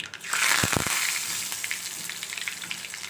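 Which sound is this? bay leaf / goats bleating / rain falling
bay leaf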